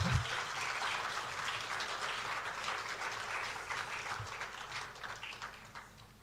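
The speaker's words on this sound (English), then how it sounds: "Oh, please, a round of applause." A crowd at a security service heads' swearing-in ceremony at the presidency claps in a sustained round of applause that starts full and gradually thins and fades over several seconds.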